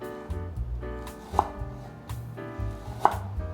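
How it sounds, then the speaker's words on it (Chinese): A knife chops ginger slices on a cutting board in a home kitchen, one of them sounding two distinct sharp taps over a low background hum. "来切一点新香料，姜片准备10克"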